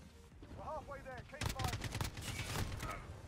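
An AK-47 fires rapid bursts in a Modern Warfare match, a quick string of sharp close shots following a short stretch of quieter game sounds and a voice.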